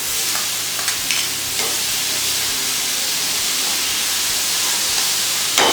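Tomatoes go into a hot pan with garlic and sizzle loudly, giving a steady close hiss of frying with a few faint stirring clinks and no talk.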